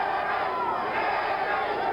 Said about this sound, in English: There's a segment of the crowd here that keeps chanting, Jimmy Young, Jimmy Young.